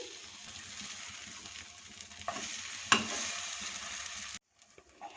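Egg and vegetables sizzle steadily in a pan, a soft continuous frying hiss broken by a sharp clink of a utensil, before the sound cuts out briefly near the end.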